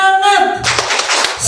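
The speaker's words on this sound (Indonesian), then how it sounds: "Yang terakhir boleh minta tepuk semangatnya." A group performs a rhythmic spirit clap at a teachers' gathering, a quick burst of evenly spaced claps following a short voiced sound.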